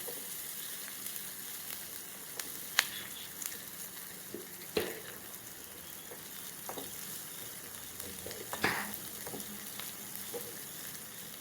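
Onions frying with asafoetida in a pan, a faint steady sizzle with occasional soft clicks of stirring, close but quiet and with no talk.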